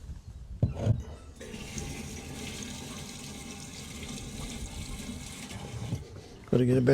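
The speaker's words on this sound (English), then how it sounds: "Just going to pour some more diesel in." Diesel fuel pours steadily into a large Euclid dump truck in a continuous gurgling stream for several seconds, bracketed by brief knocks and handling noises.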